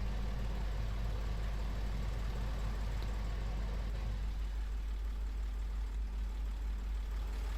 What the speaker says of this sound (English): I might start reversing the tractor in so it's easier to get to the engine.